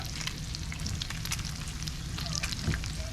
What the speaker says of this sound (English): Bacon's popping.